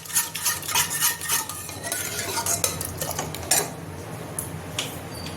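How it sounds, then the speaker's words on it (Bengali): A spoon stirs and mashes boiled dal inside a metal pot, scraping and clinking in quick irregular strokes that ease off toward the end, close and clear with no talk. "ডালটা এইভাবে ঘেঁটে নিতে হবে।"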